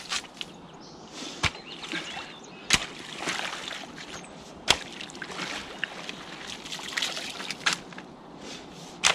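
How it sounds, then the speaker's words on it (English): Water flowing out through a broken beaver dam, a steady close trickle and gurgle with splashy rushes, broken by occasional sharp knocks and thumps. "water's flowing out, so it's a good sign"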